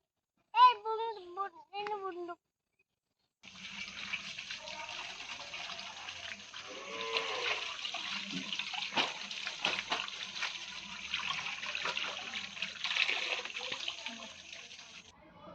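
Tap water runs steadily while freshly picked arum (taro) flowers are rinsed before being cut for cooking, a continuous close splashing gush that follows a brief spoken moment at the start.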